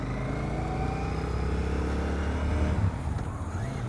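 A brand new ICON motorcycle pulls out in front of a Mustang and accelerates, its engine note climbing steadily at moderate distance before easing off near the end, with no talking.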